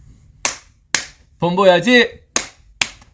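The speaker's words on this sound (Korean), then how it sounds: "제가 박수 탁탁 치겠습니다" Four sharp, close hand claps, two before and two after a burst of spoken chanting, each one a crisp isolated smack in a quiet room.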